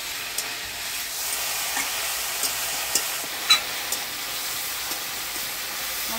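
A spice paste with turmeric and salt sizzles and hisses steadily in a pan, with soft periodic scrapes and knocks from a spoon stirring it.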